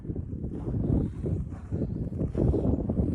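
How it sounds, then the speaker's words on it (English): Strong gusts of wind buffet the microphone outside a garage in cold weather, a loud, low rumbling roar that surges and eases in uneven waves throughout. "It's a little windy out here"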